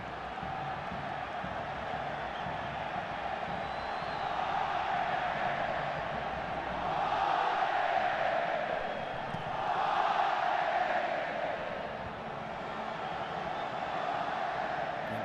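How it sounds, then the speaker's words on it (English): Large Mexican crowd roaring in a Los Angeles stadium at a 2011 Gold Cup soccer match against the United States, a continuous distant wall of cheering that swells twice. "Mexican crowd in Los Angeles."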